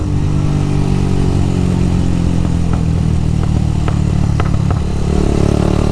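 A motorcycle engine drones steadily up close, and several sharp exhaust pops crackle over it in the second half. No one speaks.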